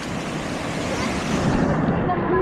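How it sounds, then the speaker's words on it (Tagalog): Heavy storm surf pounds a beach in a dense, continuous wash of noise that swells slightly louder toward the end, with no voices standing out. "Lalaki ng alon."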